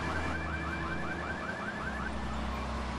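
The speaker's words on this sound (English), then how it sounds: "Come on, go away, you stupid alarm." Repeating car alarm in the Grand Theft Auto 3 video game, a steady whooping tone cycling about twice per second under game music and engine hum, with no talking.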